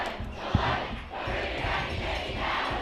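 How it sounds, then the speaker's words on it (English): A loud, dense football crowd roars and yells continuously at a high school championship game, with a brief sharp thump near the start. "This Peddie crowd is loud and they are here. You can hear them, and they are trying to will this team to a victory."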